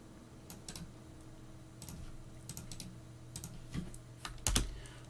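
Typing on a computer keyboard entering a terminal command, scattered quiet key clicks in short bursts with a louder flurry near the end, no talking.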